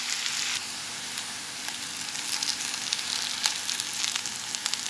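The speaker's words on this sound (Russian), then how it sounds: "Теперь обжариваем лук" Onion halves cut into quarters frying in oil, a steady broadband sizzle with scattered crackles and pops, close and moderately loud, no voices.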